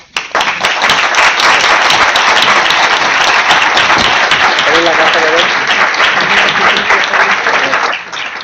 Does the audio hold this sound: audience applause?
yes